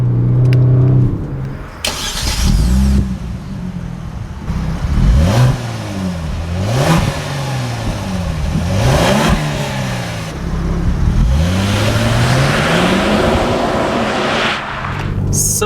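KIA Stinger GT pulling hard under acceleration, its 2018 engine note rising through repeated revs as the 8-speed automatic snaps through quick upshifts, loud and close from inside the cabin with no talk.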